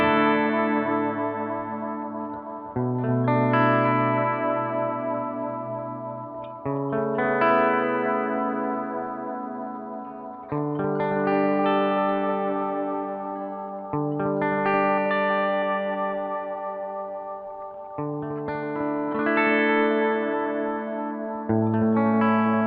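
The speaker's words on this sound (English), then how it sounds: "So we can create some nice sort of, I don't know, atmospheric sound there" Electric guitar through a Gokko Dripping GK-22 analog delay pedal, sustained chords repeating every few seconds with lush, atmospheric echoing trails that swell and overlap, loud and steady with no voices.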